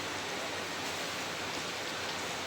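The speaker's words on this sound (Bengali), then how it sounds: "আজকে বৃষ্টি পড়ছে" Steady rain falls, a soft even hiss with no breaks, fairly quiet and close by.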